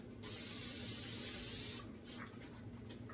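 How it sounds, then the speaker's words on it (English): A long steady hiss from an aerosol cooking spray can, close and loud, followed by a few softer short bursts and clicks. "just with some cooking spray right before you put them in"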